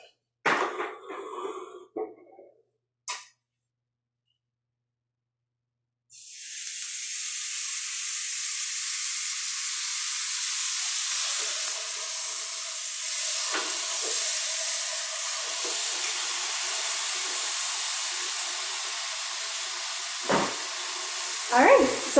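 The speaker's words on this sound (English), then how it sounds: "they're in there sizzling away" Food sizzling on a heated grill at a Memorial Day barbecue, a steady hissing sizzle that starts abruptly after a few short noises and a silent gap, then continues evenly with occasional clicks.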